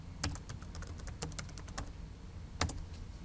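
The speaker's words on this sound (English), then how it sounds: "Type in the password." A password is typed on a computer keyboard: a quick series of soft, close key taps in an uneven rhythm, with a pause and then a final pair of keystrokes over a faint background hum.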